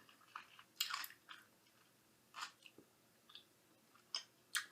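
Crisp crunching bites into a pickled caperberry or pickle, several sharp crunches and chewing sounds spaced out over a few seconds, close and fairly quiet with no talking.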